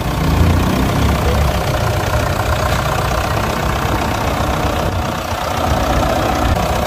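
A 2.0 turbo diesel pickup engine idling close by, a loud steady rumble with a faint knocking clatter, no voices over it.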